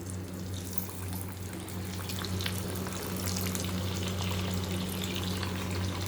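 Coconut-filled kadubu dumplings fry in hot oil with a steady, close crackling sizzle over a low hum, continuous throughout.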